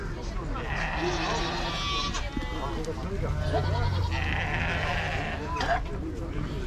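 Lambs bleat repeatedly at a busy livestock market, several wavering cries near and far, mixed with ongoing voices of people haggling nearby.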